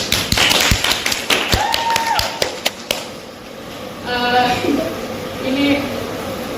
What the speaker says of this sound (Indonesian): Tepuk tangan dulu, tolong.